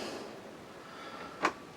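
A kitchen drawer in a 2024 Swift Challenger Grande Exclusive 650L caravan closing with a single soft click-thud after a quiet, hissy stretch.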